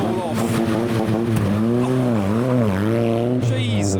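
Rusty tuner car at a car meet, its engine droning and revving with a wavering pitch as it rolls over anti-car-meet speed bumps, close and continuous under ambient noise.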